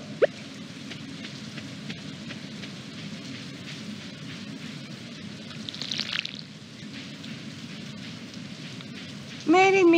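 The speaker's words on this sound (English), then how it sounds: "and it's raining." Steady rain falls in a continuous soft hiss, holding an even level throughout, with a brighter tonal sound cutting in near the end, in the video game Stardew Valley.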